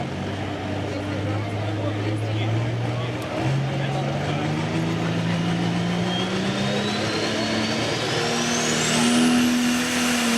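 A pulling tractor at an evening tractor pull, its engine droning and climbing steadily in pitch as it revs under load, with a crowd and an announcer's voice heard over the roar.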